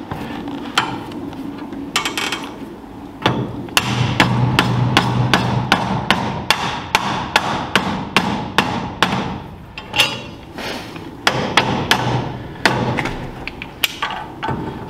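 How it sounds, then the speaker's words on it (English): Repeated hammer strikes bending over the end of a steel track pin on a Nashorn Sdkfz 164 tank track, with pliers holding the pin; close, loud metallic blows in irregular bursts with short pauses. "with a hammer I bend the end over."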